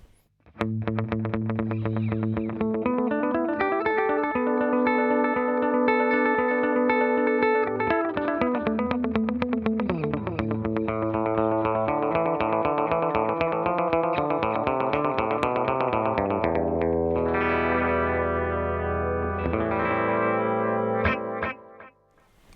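Electric guitar played through a Fractal FX8 delay block, its EQ rolling off most highs and lows, giving sustained notes and picked phrases trailed by repeating echoes and a chorused, slightly distorted wash that fades out at the end.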